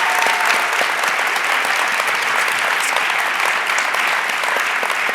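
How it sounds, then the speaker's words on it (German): Steady, dense applause from an audience at a university lecture on dreams and sleep, loud and continuous with no pauses throughout. "Und nochmal ein Applaus für Professor Dr. Jan Dietrich."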